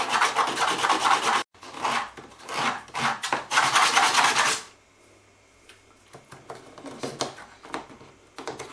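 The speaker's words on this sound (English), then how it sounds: "I'm just using some 120 grit." Hand sanding of a wooden dulcimer mold with 120 grit sandpaper, close and loud rasping strokes in bursts, a long run of quick back-and-forth rubs, a quiet pause, then more steady scraping strokes.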